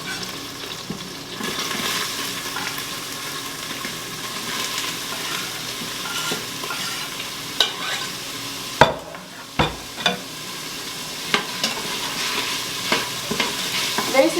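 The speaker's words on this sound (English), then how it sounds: "now I'm going to add in my onions, and I'm just going to let these cook for just a minute" Chopped onions hiss and sizzle steadily in hot oil in an Instant Pot for broccoli and beef soup, with occasional stirring clacks and knocks toward the end and no voices.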